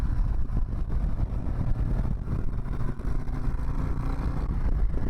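A Harley-Davidson Road Glide ST bagger motorcycle engine pulls under throttle in a higher gear, a loud, continuous low rumble mixed with wind noise, close and without talking.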